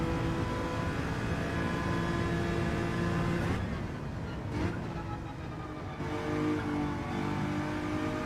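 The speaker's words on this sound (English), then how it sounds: "I think the Ferrari you can pretty much rev it out" A Ferrari engine in Gran Turismo 7 drones steadily at high revs, holding a sustained, loud tone that dips briefly as gears shift before climbing again, with no voices over it.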